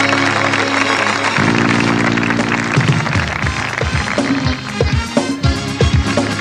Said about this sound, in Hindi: मैं चाहूँगा आप लोग ज़ोरदार तालियों से स्वागत कीजिए